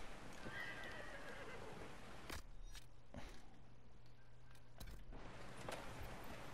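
A horse in Dragon Age: Inquisition gives a whinny, followed by hoof clops and sharp impacts over a steady layer of ambient game noise, all at moderate distance.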